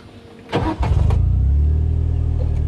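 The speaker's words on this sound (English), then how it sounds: "So let's drive through some weeds." A vehicle rigged with a spray boom for spraying glyphosate starts driving through weeds. A couple of clunks come first, then an engine rises into a steady, loud, close drone.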